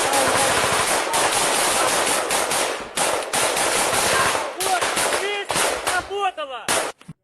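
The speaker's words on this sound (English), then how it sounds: "Ukrainian soldiers have a direct contact with the Russians and open fire" Machine gun fire in combat between Ukrainian and Russian soldiers roars in long, loud continuous bursts, broken by brief gaps and scattered single shots near the end, with whistling tones overhead.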